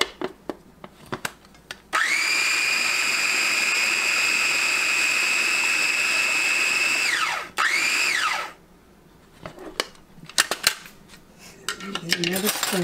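A blender whizzes pizza sauce ingredients in a loud, steady high whine for about five seconds, then briefly winds down and restarts before cutting off, with clinks and handling noises before and after.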